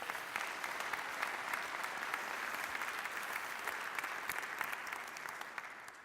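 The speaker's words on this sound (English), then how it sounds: "I want a round of applause." Steady, fairly distant applause from a lecture audience, dense even clapping that holds at a constant level throughout before tapering slightly at the end.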